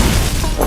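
A loud, dense explosion burst from the video game Through the Petals, a broad rumbling blast that fills the whole moment with crashing, booming energy and no pause.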